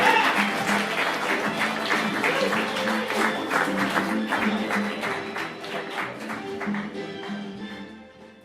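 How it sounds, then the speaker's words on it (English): A small comedy club crowd claps for a comedian taking the stage, brisk applause that fades gradually toward the end, with faint murmuring beneath. "give a huge round of applause for Ben Cholok, ladies and gentlemen"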